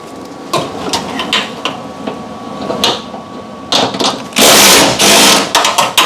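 A bolt is worked free from a shock absorber on a Samsung washing machine with a power tool, sharp metallic clicks and clanks followed by a loud, sustained burst of tool noise close by, no talking.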